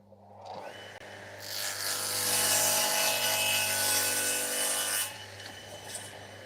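The end of a pallet wood board is trimmed with a steady, rasping cut that lasts about four seconds at close range, over a low electrical hum, then fades back to the hum alone.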